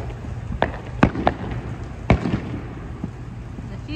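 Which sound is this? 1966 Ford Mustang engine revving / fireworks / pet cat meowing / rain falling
fireworks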